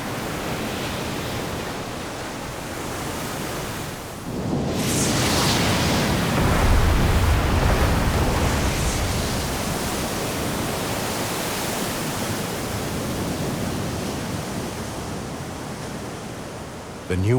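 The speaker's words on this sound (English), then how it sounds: "The power of the waves collides against the ramparts of the volcano." Heavy ocean swell pounds against the ramparts of a volcanic island in a continuous loud roar, with a big crashing surge partway through that rumbles low and then settles into sustained rushing surf.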